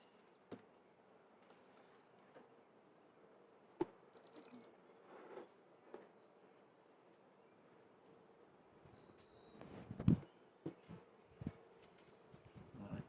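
Honeybees buzzing faintly in a bee yard during a hive inspection for mites, a low, steady drone with occasional knocks and handling clatter, and brief bird chirps in the distance.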